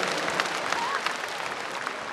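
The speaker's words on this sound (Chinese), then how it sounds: "let's give them another round of applause" An audience claps throughout at the 2007 Miss Tourism Queen International beauty pageant, a dense and steady round of applause from a crowd, with a voice faintly audible over it.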